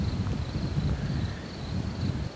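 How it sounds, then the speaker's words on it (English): Low, rumbling buffeting of strong spring wind on the microphone outdoors in Ohio, steady and blustery throughout with a faint high whine in the background. "It is super, super windy."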